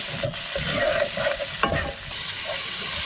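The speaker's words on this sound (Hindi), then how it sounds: "इसको हल्की आंच पे भूनना है।" Masala frying on a low flame in a pan while a spoon stirs it, giving a steady close sizzle with scraping strokes and soft clinks throughout.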